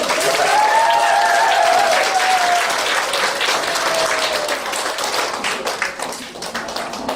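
A large audience at a Korean talk show claps loudly and steadily in a dense, sustained round, easing slightly toward the end. A faint voice runs briefly underneath.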